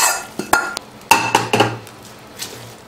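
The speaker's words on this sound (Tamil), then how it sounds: "நம்ம தாளிச்சது பொங்கலில் போட்டுக்கலாம்." A spoon scrapes and clinks against a metal pan as a tempering of curry leaves is tipped into millet (samai) pongal, giving several sharp bright knocks followed by a soft sizzle.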